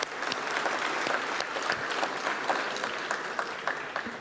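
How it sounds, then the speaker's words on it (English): An audience at a World Food Forum speech breaks into steady, dense applause, a continuous wash of clapping from a large crowd that holds at an even level throughout. "Give the applause."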